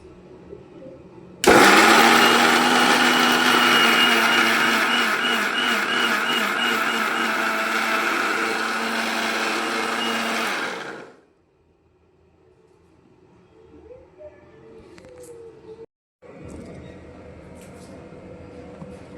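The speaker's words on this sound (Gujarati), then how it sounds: "આપણે હવે આવી રીતના થોડા થોડા લઈને મિક્સર જારમાં પીસી લેવાનું" A kitchen mixer grinder runs loudly for about nine seconds, grinding chillies in a large jar for homemade chilli sauce, a steady high whirring motor roar that starts abruptly and then cuts off, followed by quieter room sounds.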